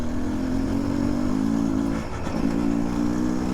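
A street-legal dirt bike engine idles and putters steadily at low revs, a constant mid-pitched drone with a brief dip and recovery partway through, close by and with no talk.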